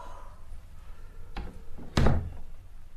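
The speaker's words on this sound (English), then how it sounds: "Shut the door." A door is pushed shut indoors: a soft knock-like bump, then a firm, close wooden thud as it closes, with quiet room tone around it and no talking.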